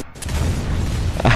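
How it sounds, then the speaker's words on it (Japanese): An explosion in the survival-horror video game Resident Evil Revelations 2 gives a dense, loud, sustained boom with rumbling debris that fills the whole short moment, with no talking. "爆発した"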